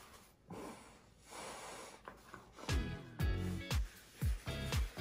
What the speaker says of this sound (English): gently blow my nose to get rid of the excess mucus